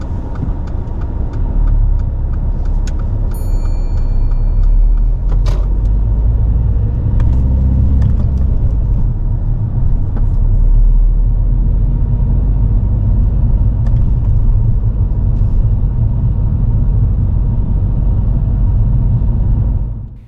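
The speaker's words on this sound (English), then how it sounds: "Drive off whenever you're ready." A car pulls away on a driving test, its engine a steady, close rumble with light road noise running continuously under the cabin sound and no talk.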